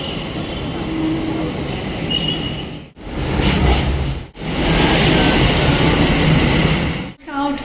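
A metro train ride heard from inside the carriage: a loud, continuous rumble and rattle of wheels on track, broken by a few brief dips in sound, with faint talk in the background.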